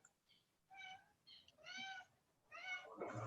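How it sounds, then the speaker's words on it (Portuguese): A house cat meows several times in a row, clear harmonic cries with short pauses between them, fairly faint and indoors, with a rustle near the end and no speech. "Ó, o gato miando"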